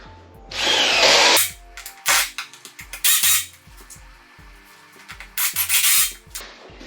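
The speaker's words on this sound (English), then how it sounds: "So now I've got a new battery on the drill, and we're going to continue putting these connectors on like we were before." A cordless power drill drives connectors while a computer desk is being assembled, with several loud whirring bursts of varying length separated by pauses filled with faint clicks and handling noise.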